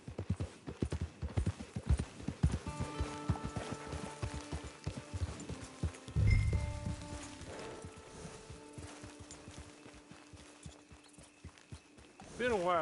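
Horse hooves clip-clop at a walk in a video game, a steady near rhythm of hoofbeats under game music, with a louder thump midway.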